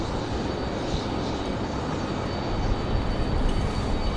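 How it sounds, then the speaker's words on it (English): Airliners taxi at Raleigh-Durham International Airport, an Airbus A330 and a CRJ regional jet, their engines a steady broad rumble and roar at a distance with a faint high whine, continuous and fairly loud, with no talking. "A330 and our CRJ as they taxi back."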